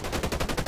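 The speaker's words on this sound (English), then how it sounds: "that was quite a bit of gunfire" Rapid automatic gunfire in the video game Tom Clancy's Ghost Recon Breakpoint, a short burst of evenly spaced shots repeating in quick rhythm, loud and alone.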